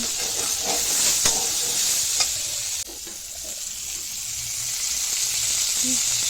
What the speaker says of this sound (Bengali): এবার পেঁয়াজ লঙ্কা কেটে রাখা দিয়ে দিলাম। এটাকে দিয়ে আবার ভাজবো।